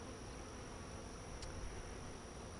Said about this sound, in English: But this is a lot of bees, and that's a decent amount of bees.